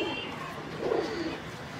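A young male Kalanka pigeon coos softly and continuously at close range, a low steady murmur with a slightly stronger swell midway, under faint background noise.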